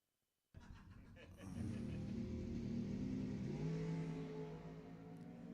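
A purple dragster launches down the strip at Lebanon Valley Dragway during ET finals, a loud roaring engine bursting in suddenly after brief silence, then swelling into a sustained, heavy blast that holds to the end.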